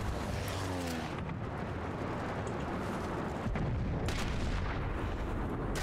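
Suppressed sniper rifle fire in the game Sniper Elite, a dense layer of booming game audio with a sharp shot cracking through around the middle, with no talking.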